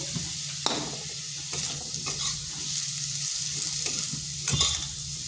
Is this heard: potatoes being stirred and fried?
yes